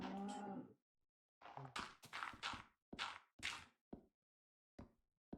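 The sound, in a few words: cow mooing in the video game Minecraft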